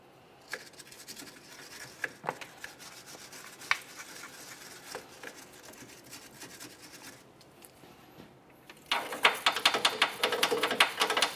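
Brisk scrubbing on the control arm mounting area of a 2005-2010 Chevrolet Cobalt, with repeated rasping brush strokes and a few sharp clicks, growing louder and faster near the end.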